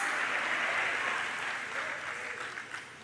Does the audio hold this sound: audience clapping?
yes